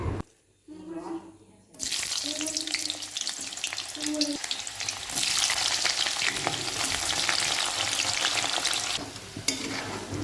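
Onions dropped into hot oil in a wok set off a loud, sudden sizzle after a quiet start, the frying hiss continuing strongly and closely throughout with stirring scrapes.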